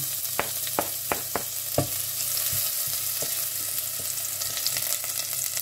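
Garlic frying in oil in a pan for giniling with potatoes: a steady sizzle runs throughout, broken by a few sharp clicks and stirring knocks of a utensil, close and moderate, with no talking.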